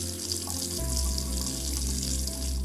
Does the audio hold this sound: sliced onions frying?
no